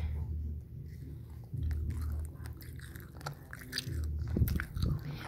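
Someone bites and chews sugary candy close to the microphone, giving wet, crunchy chewing and mouth sounds that continue steadily with a few louder bites toward the end.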